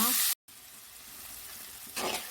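Tomato and onion fry in a pan for a squid fish sukka, giving a steady soft sizzle that swells into a brighter hiss near the end after a brief cut, with no talking.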